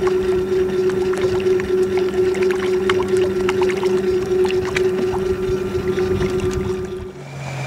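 A steady electric kayak outboard motor whine, a Torqeedo 403 Ultralight, with a constant tone over rippling water noise, continuous and close, easing off at the very end.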